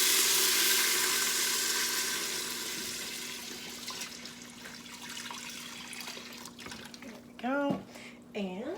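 Beef broth pours into a hot Instant Pot, sizzling and splashing loudly at first, then settling into a steady hiss and bubble; a voice speaks briefly near the end.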